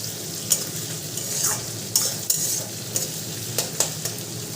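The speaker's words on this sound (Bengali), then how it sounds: "দিয়ে এবার একটু ভালো করে ভেজে নেব, একটু ভাজা হয়ে গেছে আর একটু ভাজবো পেঁয়াজটা" Chopped onions sizzle in a pan with a constant hiss, broken by repeated sharp scrapes and clinks as a spatula stirs them.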